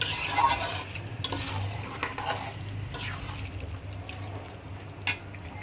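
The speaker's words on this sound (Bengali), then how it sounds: "মাংসটা কষানোর জন্য একটু পানি দিয়ে দিই" Beef with potatoes braising in a pot as a little water is added: a spoon stirs and scrapes in irregular strokes over a soft sizzle, with a few metallic clinks against the pan.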